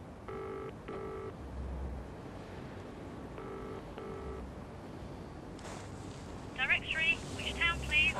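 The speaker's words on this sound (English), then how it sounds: "I crossed the road and went to the payphone, then dialed 192 to find out a number for a minicab" A street payphone is dialed to 192 directory enquiries, with short bursts of beeping tones in two groups, low rumble between, then a ringing trill near the end, all faint under ambient street noise.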